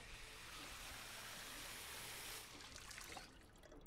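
Water pours steadily into a bottle in the survival game Project Zomboid, a continuous rushing splash that thins out and fades near the end.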